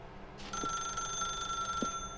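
A telephone rings in a game setting with a bright, steady electronic tone that holds for almost two seconds. Two soft dull knocks sound beneath it.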